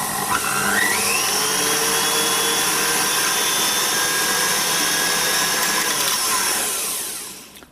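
A KitchenAid stand mixer whirs steadily, its motor whine climbing in pitch as the speed is stepped up, then spinning down to a stop at the end. Nobody speaks over it.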